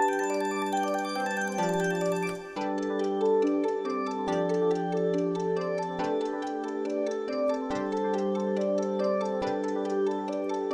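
A beat made in FL Studio, played without a Gross Beat effect, with sustained synth chord tones under a steady run of bright, plucked notes. The chords change every couple of seconds, and the sound is clean with no voices.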